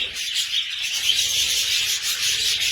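Pet birds chirp in a busy indoor bird room during feeding, with steady high twittering over a constant rubbing, rasping texture and no voices.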